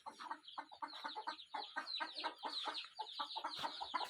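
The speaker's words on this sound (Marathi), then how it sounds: "मी तुम्हाला आता माझ्याकडलं जे काही पिल्लं होते, कोंबड्या थोड्या प्रमाणात राहिलेत, ते दाखवलेले आहेत" Hens and chicks on a small poultry farm hit by Ranikhet disease cluck in dense, overlapping bursts, a busy and continuous chatter of several birds close by.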